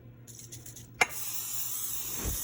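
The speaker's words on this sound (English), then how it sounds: "I'm just spraying the pan with some non-stick spray" Non-stick cooking spray hisses onto a cake pan for a strawberry cake: a small click, then a steady, close, breathy spray lasting about a second and a half, with no talking.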